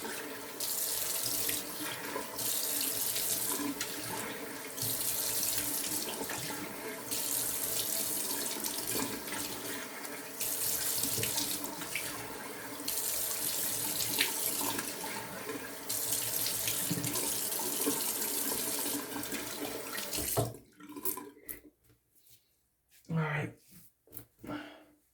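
Tap water runs steadily into a sink for about twenty seconds while a goatee is rinsed after a straight-razor shave, then stops, leaving faint splashes and movement; a voice speaks briefly.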